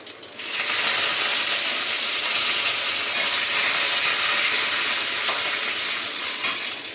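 Mustard seeds and cumin sizzling in hot oil as a curry tempering, a loud, close, continuous frying hiss holding steady throughout.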